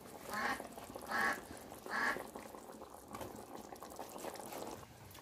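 Dried fish curry (karuvadu kuzhambu) boiling in a pot, a low bubbling simmer with three louder gurgling pops early on, then a steady quieter bubbling, fairly faint and without talk.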